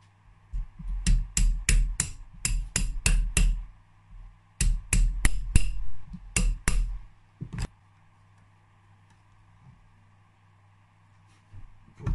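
Sharp metallic taps seat a gearbox part in a Yamaha DTR two-stroke (4BL) engine during a rebuild. Two quick bursts of about seven or eight close knocks each are followed by one last tap and near silence.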